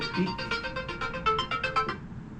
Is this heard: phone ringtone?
yes